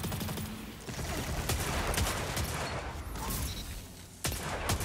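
Dense gunfire from the video game Destiny in Trials mode, with a rapid volley of shots blending into a continuous rattle, loud and close, with a sharp final shot.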